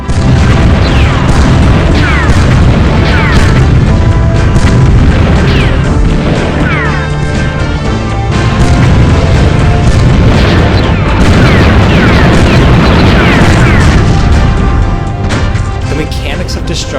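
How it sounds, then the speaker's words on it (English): Buildings, walls, turrets, gas cans and tanks blow up in the video game Battletanx, with dense, continuous loud booms and crashes layered over game music and a narrating voice. "Buildings, walls, turrets, gas cans, and even the tanks themselves blow up."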